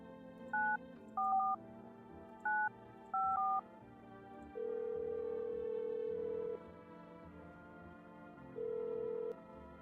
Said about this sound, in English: I dialed it, right?